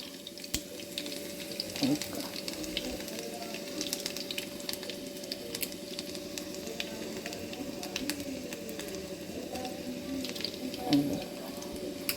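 Faint, steady sizzle with small crackles as garlic and chillies fry in hot oil, over a low constant hum.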